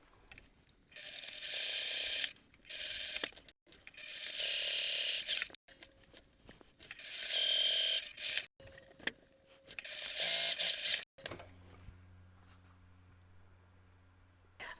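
A sewing machine topstitches along the long edges of fabric bag straps, running in several close, loud stretches of rapid mechanical clatter with short stops, followed by a quieter low hum.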